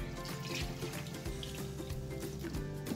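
Milk poured into a pot of oatmeal porridge, a steady liquid splash and gurgle running continuously at close range with no talk over it.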